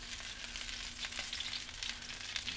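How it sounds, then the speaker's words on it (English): Crispy skin on an air-fried chicken sizzles and pops up close, a continuous fine crackle with scattered sharper pops, fairly quiet, with no talking. "Hear that sizzle and pop."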